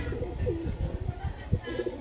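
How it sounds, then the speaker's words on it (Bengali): Racing pigeons in a loft cooing close by, a few low throaty coos over quiet background, with a person talking softly. "মাদা পায়রা দেখুন"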